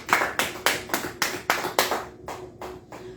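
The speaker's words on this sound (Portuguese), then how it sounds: "Aplauda o Senhor." A church congregation claps in praise with about ten sharp, evenly spaced claps in a steady rhythm, in a reverberant room, with the final claps growing slightly softer.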